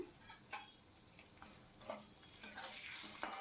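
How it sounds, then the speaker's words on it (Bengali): Potatoes frying with salt and turmeric, a soft low sizzle with several brief stirring scrapes and clinks of a utensil against the pan, spaced irregularly and fairly quiet. "নুন হলুদ দিয়ে আলুটাকে ভেজে নেব ভালো করে"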